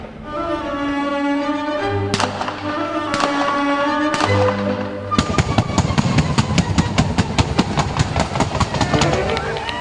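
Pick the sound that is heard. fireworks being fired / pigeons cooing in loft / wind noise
fireworks being fired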